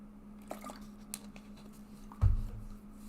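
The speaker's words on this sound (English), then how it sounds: "Let me get a sip of water." A person takes a sip of water, a faint wet slurp and swallow arriving near the end after a few quiet, soft mouth sounds over a low steady hum.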